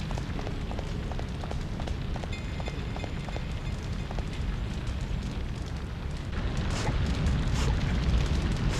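Steady roaring fire from the burning building in Shadow of Memories on PlayStation 2. A dense, loud rumble runs throughout with faint rhythmic ticks over it, and it swells a little louder near the end.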